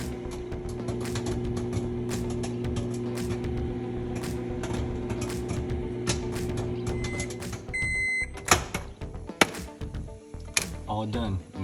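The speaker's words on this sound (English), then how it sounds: "Place your popcorn in the middle of the microwave. Click start." An Act II microwave popcorn bag heating inside a running microwave oven, a steady low hum for most of the run, then a few faint beeps and some clattering handling sounds toward the end.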